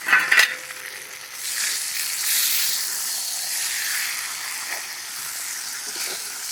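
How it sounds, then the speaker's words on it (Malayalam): Grated coconut tossed and stirred into kappa thalichathu in a pan, with a brief clatter at the start and then a steady, moderately loud frying sizzle that swells and fades as the mix is turned. "തേങ്ങ നമുക്കിതിൽ ഇടാം. ഇട്ടിട്ട് ഒന്നുകൂടി ഇളക്കാം."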